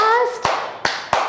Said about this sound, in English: Clap your hands, fast,